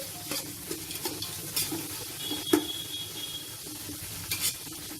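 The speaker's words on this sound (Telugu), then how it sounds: "ఇప్పుడు ఈ ఉల్లిపాయ ముక్కల్ని బాగా ఫ్రై చేసేసుకోవాలి" Thin-sliced onions frying in a pot for chicken biryani, with a spoon scraping and stirring in irregular strokes over a constant sizzle; occasional metallic clinks, no talking.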